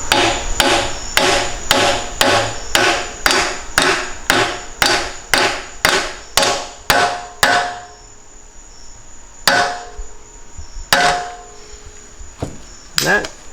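A hammer taps an axle seal into place with a fast, even run of about a dozen sharp metallic strikes, then a pause and a few slower, scattered taps, all close and loud.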